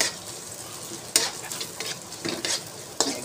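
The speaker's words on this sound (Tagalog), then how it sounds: "gisa na natin ang sibuyas" Onions sautéing in a hot pan, a continuous close sizzle broken by several sharp scraping stirs of a utensil against the pan.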